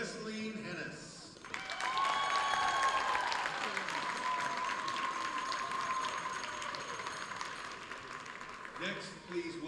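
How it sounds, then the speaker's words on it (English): Crowd applause in a gym at a girls' high school basketball game, a sustained burst of clapping and cheering from the stands that swells then slowly fades, with an announcer's voice before and after. "please, a round of applause for Messeline Hennis."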